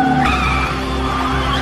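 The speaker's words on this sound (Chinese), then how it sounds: "猪猪侠因为轮胎打滑，也成为了第二个退赛的车手。" Cartoon race car tires skid and squeal in a loud, sustained screech over an engine drone, lasting under two seconds.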